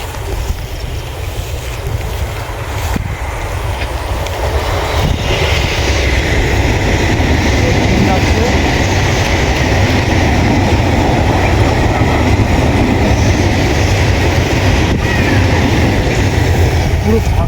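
A loud, continuous rumble of a passing last train of the night by a railway line, mixed with heavy wind buffeting the microphone, steady throughout, with voices faintly underneath.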